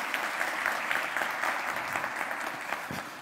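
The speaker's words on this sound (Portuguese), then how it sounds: "Pode aplaudir o Senhor aí," A church congregation applauds, a steady, moderately distant patter of many hands clapping throughout.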